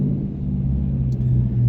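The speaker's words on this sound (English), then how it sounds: "they put some freaking speed bumps in this parking garage" A 2018 Dodge Challenger R/T Shaker rolls through a parking garage, its engine a steady low rumble with a brief higher thump or two that could be the car crossing speed bumps.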